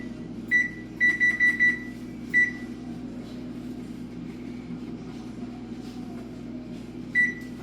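An oven control panel beeps as it is set to 400 degrees: a single beep, then a quick run of four, another beep, a pause and one last beep, sharp and close over a low hum.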